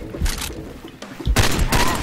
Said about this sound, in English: I'm like, why are they shooting me?